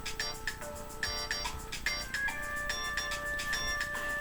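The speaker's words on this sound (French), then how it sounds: "Ça, c'est mon téléphone." A mobile phone ringtone plays nearby, a bright repeating electronic melody of short chiming notes in a steady looping rhythm, fairly loud, with no talk.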